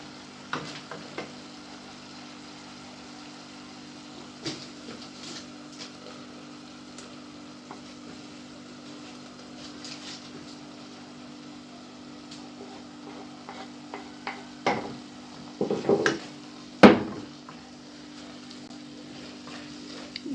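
Pre-boiled meat stirred into tomatoes cooking in a pot on low heat, a faint steady sizzle with scattered scraping knocks of the spoon, bunching into a cluster of louder stirring clatter near the end.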